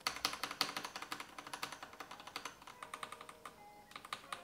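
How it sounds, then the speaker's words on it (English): A mechanical keyboard with Phantom switches and PBT keycaps is typed on, giving a fast steady stream of close, crisp key clacks, quiet and unbroken by speech. "So here is the original Phantom switch. And this is the PBT switch."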